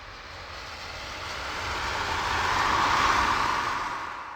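Northern Lights synthesizer 'magnetic storm' patch, a slightly distorted, broadband roaring wash that swells gradually to a peak near the end like a passing jet, dense and noisy with no voices.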